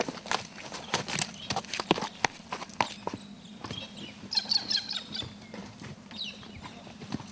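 A horse walks on a track, its hooves clip-clopping in an irregular steady rhythm close by, with faint bird calls in the background.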